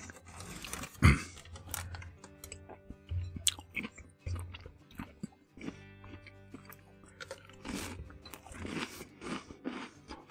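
Close, crunchy bites and chewing of food during a casual mukbang at a home cooking stream, with irregular wet crunches and smacks spread through the clip and no talking.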